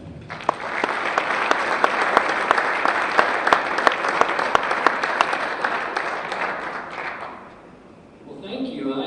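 Warm audience applause at a Rotary Club of Denver program welcoming a speaker, steady clapping from a room full of people that fades out near the end before a voice begins.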